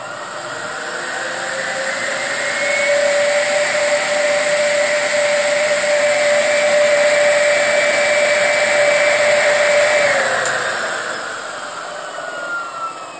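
An e-bike hub motor in boost mode spins its wheel with a loud, steady high-pitched whine that rises slightly, holds for several seconds, then winds down as the wheel slows.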